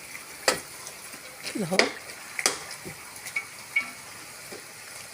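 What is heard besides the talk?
chopped garlic and onion frying in a pot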